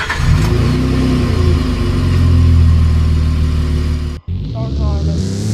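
A Nissan Frontier truck engine in the Driving Empire video game revs loudly and steadily, cuts out abruptly near the end, then picks back up at a lower pitch.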